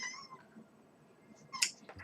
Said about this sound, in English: I don't know if you guys can hear my cat.